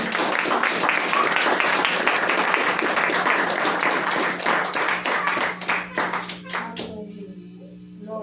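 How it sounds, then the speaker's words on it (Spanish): Church congregation clapping hands as an offering to the Lord, a loud sustained wave of many hands that thins into scattered sharp claps before fading, with a steady low hum under it. "Den una ofrenda de palmas al Señor"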